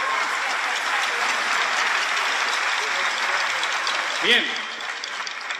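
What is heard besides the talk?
audience applause for the accordion player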